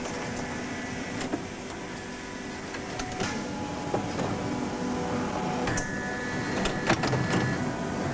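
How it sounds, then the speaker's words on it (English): A boot-making machine runs in a factory, giving a steady mechanical whir with intermittent clacks and short hisses, close and continuous with no voices. "The first machine we saw, well, you put the stock on it, then there's a boot already being made."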